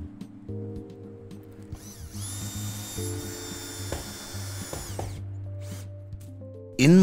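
A power drill whirs steadily for a few seconds, driving screws to fasten a cover strip on a Plastmo TwinLite polycarbonate roof, with ratcheting mechanical noise before and after and a sharp clunk at the end.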